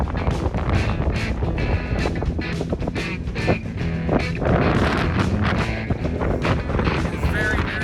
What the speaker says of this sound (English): It's very, very, very windy up here.